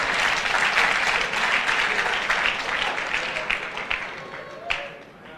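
Congregation applauding in a church service in Pretoria, South Africa: sustained dense clapping from a large crowd, loud and continuous, thinning slightly toward the end with a few sharper individual claps.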